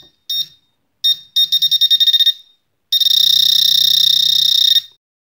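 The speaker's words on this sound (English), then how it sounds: "Reactivate the buzzer." A metal detector pinpointer's high electronic buzzer sounds loud and close, first in short beeps, then a quick pulsing run of rapid beeps, and finally a long continuous tone that stops abruptly, with no talk.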